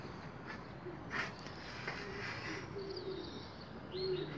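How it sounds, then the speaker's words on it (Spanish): Pigeons outdoors at a pigeon racing competition in Tomeo, Mallorca, giving faint, distant coos and chirps against a soft, steady background hiss, with a few brief louder calls near the end. "Para ahí atrás hay palomas volando."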